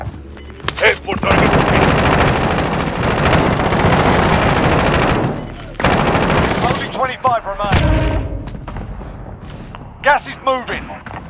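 Heavy automatic gunfire and bursts of shots in a Call of Duty: Warzone match, loud and nearly continuous for several seconds, then broken into shorter volleys as radio-style voice callouts play over the battle.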